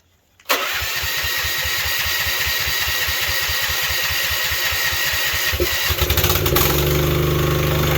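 A manlift's engine with an electric choke cranks briefly, then catches and settles into a steady, loud, rhythmic running idle that slightly roughens near the end, with no talk.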